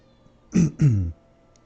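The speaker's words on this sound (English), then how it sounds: "My cat wants to be a part of the broadcast." Two drawn-out meows from a house cat, close and clear, sounding one after the other in a quiet room.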